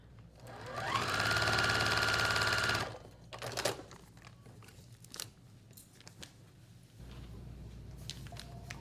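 A sewing machine stitches quilt pieces in one steady motorized run of about two seconds. Quieter handling clicks and rustles of fabric follow.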